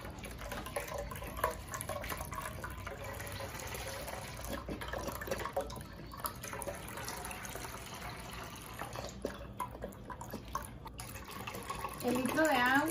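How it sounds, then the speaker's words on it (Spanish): A litre of milk is poured into a container, a continuous liquid pour under ongoing talk, rising into a fuller gurgle near the end. "En un recipiente vamos a poner 1 litro de leche."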